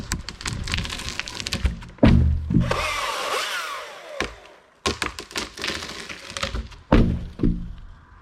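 A tree cracking and breaking in woodland, with sharp wooden snaps and thunks, a rushing creaking swell as it goes over, then scattered cracks and knocks of branches settling.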